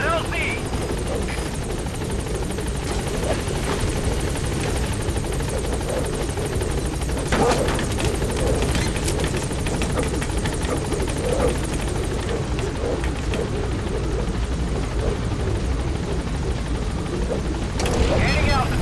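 Pequod, a helicopter in Metal Gear Solid V: The Phantom Pain, holds a steady, loud rotor and engine drone throughout, with radio-style talk riding over the continuous roar.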